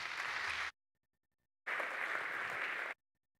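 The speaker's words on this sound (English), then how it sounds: "Let's applause." Conference audience applauding a keynote speaker at Graphene Week 2018, in two bursts of clapping separated by a short silence.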